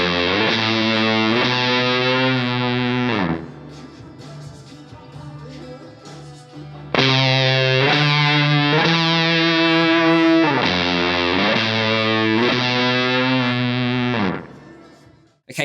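Electric guitar run through a spitty fuzz pedal, a Lightspeed unit and a slapback delay, playing sustained distorted chords in two loud phrases separated by a brief quieter gap, then ringing out to a sudden stop.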